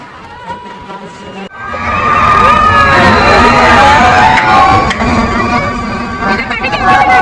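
Large crowd at a busy fair bursts into loud, sustained cheering and shouting with children's voices and whoops, rising sharply after a quieter moment of nearby talk and continuing throughout.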